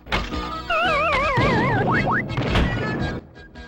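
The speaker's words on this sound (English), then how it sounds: "I love that Pac-Man death sound." The Pac-Man death sound from the game Pac-Man World: a descending warbling electronic tone followed by two quick rising blips, mixed with thuds and other game noises.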